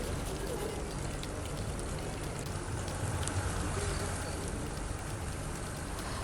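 Heavy rain pours down during flooding, a dense, loud, constant hiss of falling water that fills the whole stretch without pause.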